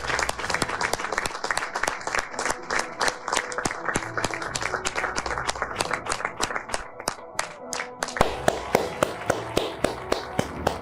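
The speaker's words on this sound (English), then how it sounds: "watch the applause that never ends" Applause for Ted Cruz goes on and on, a sharp, rhythmic series of loud claps, close and distinct, with a brief pause before the clapping picks back up and keeps going.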